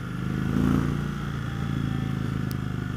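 A 2015 Indian Chief Dark Horse motorcycle engine pulls hard under acceleration while being ridden, a loud close rumbling drone that swells briefly and holds steady throughout.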